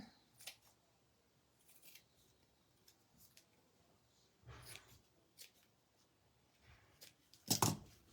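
Scissors trimming a craft bow, a scattering of quiet, crisp snips and light rustles spread unevenly across a near-silent room, with one louder cluster of cuts near the end.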